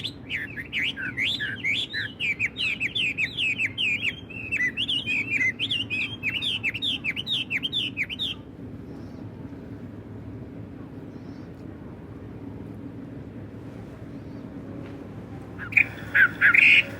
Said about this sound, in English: They're called babblers, and they make a lot of noise